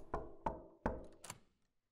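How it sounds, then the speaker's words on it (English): Four firm knocks on a door in a horror video game, evenly spaced and close, the last a quick double rap, then silence. "I hate knocking at the door, that's terrifying"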